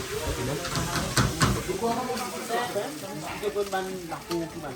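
Fish and onion sizzle and hiss in a hot frying pan with some stirring, a continuous crackling fry heard close while people talk over it.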